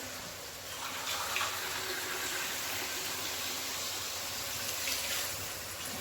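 Water pours steadily in a continuous splashing stream into a cooking pot for sambar, close by, with no voices.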